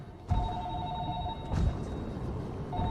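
A telephone rings in the horror video game Narcosis, giving bursts of electronic trilling with a pause between them over a dense, low rumbling ambience.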